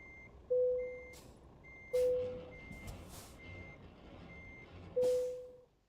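A truck backing its trailer into a parking box in Euro Truck gives a reversing beeper that sounds three sharp tones at uneven intervals. Softer engine and mechanical noise rumbles underneath, and no voices are heard.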